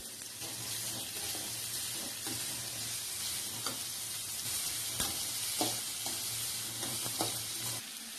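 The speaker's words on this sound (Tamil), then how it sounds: "கருவேப்பிலை, 2 பெரிய வெங்காயத்தை கட் பண்ணி வச்சிருக்கோம், அதையும் சேர்த்திக்கோங்க. எல்லாத்தையும் நல்லா வதக்கி விடுங்க." Chopped large onions and curry leaves sauté in hot oil in a pan, a steady close sizzle with occasional stirring scrapes and soft pops, no voices.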